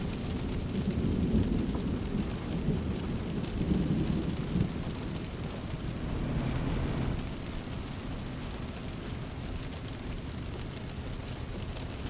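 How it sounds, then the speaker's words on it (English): Heavy rain and rolling thunder from a realistic rain weather mod in Euro Truck Simulator 2, a steady loud downpour with low rumbles swelling early on, no voices. "This is like the realistic rain mod."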